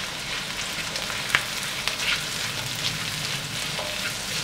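Carrots and a couple of beans stir-fry in a pan for vegetable fried rice, giving a steady, close sizzle with a few light clicks of a utensil and no talking.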